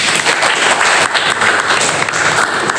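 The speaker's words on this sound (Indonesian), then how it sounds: "Oke, kasih aplaus." Classroom audience in a welding and metal fabrication lesson clapping together, a dense, loud burst of applause close by that carries on without pause.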